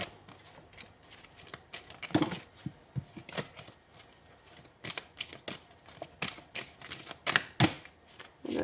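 Tarot cards being shuffled by hand in soft, irregular riffles and taps, close and quiet, in bursts separated by short pauses.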